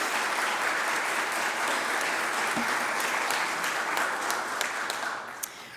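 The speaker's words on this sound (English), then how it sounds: "Okay, clap." Sustained applause from an audience at a mayor's press conference award presentation, dense steady clapping for nearly six seconds that thins slightly at the end.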